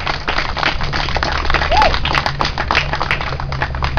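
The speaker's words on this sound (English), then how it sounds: "a huge round of applause" An audience applauds performers at an outdoor Occupy National Gathering rally, a dense and continuous patter of many hands clapping nearby for several seconds.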